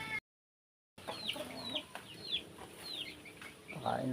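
Chickens on a small backyard farm cluck softly in a series of short, chirpy calls at moderate distance, over faint background noise after a brief silent gap at the start.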